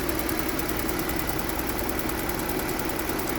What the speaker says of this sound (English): that's the sound of the purge valve working